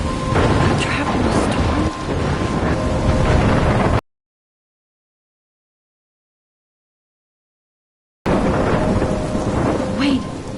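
A thunderstorm with pouring rain in the video game Life is Strange: a heavy rain hiss with thunder rolling underneath that cuts out into a few seconds of total silence, then returns just as loud.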